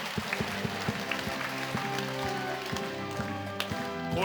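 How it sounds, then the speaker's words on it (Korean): Church congregation clapping in thanks during a worship prayer meeting, rhythmic applause over sustained organ or keyboard chords, with sharp claps standing out from the music. "하나님께 감사와 영광의 박수 올리겠습니다."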